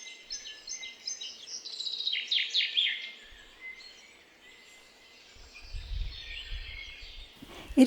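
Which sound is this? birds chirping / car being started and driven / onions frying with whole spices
birds chirping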